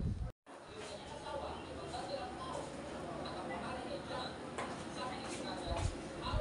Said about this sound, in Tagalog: So, magkakalit naman tayong kamatis,